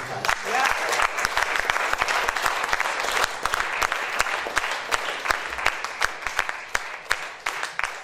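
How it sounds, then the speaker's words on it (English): Workshop participants give a long, hearty round of applause, many hands clapping densely with sharper individual claps standing out as the clapping thins and ragged toward the end. "Let us give a big clap to PART3."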